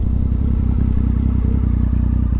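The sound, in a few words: Triumph Speed Triple 1050 motorcycle braking from 50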